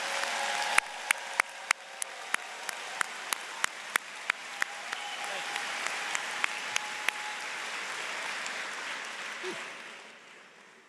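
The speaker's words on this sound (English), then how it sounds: "let's have one more round of applause for the graduates" Applause rises for forestry and environmental resources graduates at a spring commencement ceremony, a fairly distant crowd clapping steadily for about ten seconds before fading, with sharp clicks sounding at regular intervals over the first seven seconds.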